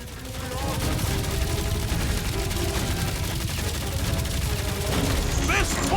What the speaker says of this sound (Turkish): Şu bombayı fırlatalım.